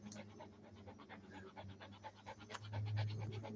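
A frightened dog pants in quick, steady, breathy bursts, close and fairly faint, with a low hum running underneath and a brief scratch partway through.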